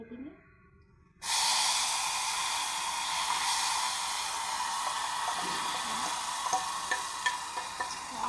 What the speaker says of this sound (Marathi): बघा आता फोडणी